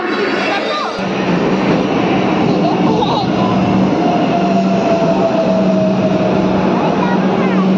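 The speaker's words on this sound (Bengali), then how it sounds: "একটা ট্রেন ছেড়ে গেল" A metro train pulls out of an underground station, its steady rumble and rising whine filling the platform continuously, with a faint tonal hum throughout and some background voices.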